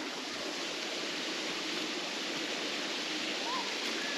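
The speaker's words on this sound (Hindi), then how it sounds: "वाटरफॉल यही है क्या, या नीचे कुछ है यार?" Moopun Falls waterfall pours in a steady, dense broadband rush that stays loud and unbroken throughout, with no voices over it.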